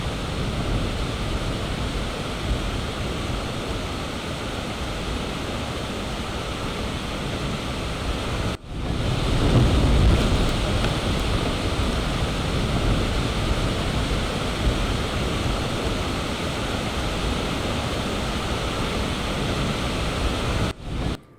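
Nanemachi waterfall near Mahad roars with a steady, dense rush of falling water, loud and continuous throughout, briefly cut once and then resuming without any voices.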